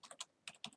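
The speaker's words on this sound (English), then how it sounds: "I'll just type it in" Computer keyboard keys pressed while typing a web address, five or six close, crisp clicks in a quick irregular run over under a second.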